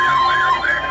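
A siren test alert plays from a RunningSnail MD319 emergency radio, a rising and falling electronic wail that sweeps up and down in steady cycles, loud and close with no talking.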